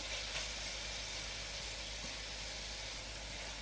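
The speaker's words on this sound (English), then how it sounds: "So we want to saute these for a few minutes." Aromatics for a mustard greens flavor base sautéing in a pan, a steady, even sizzle and hiss held at a moderate level throughout, with no talking.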